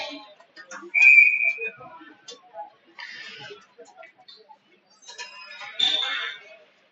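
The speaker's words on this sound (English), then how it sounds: "And we have a whistle." Referee's whistle at a college ice hockey game, one clear sustained blast near the start, followed by scattered arena noise and crowd sounds, with a second whistle-like burst later.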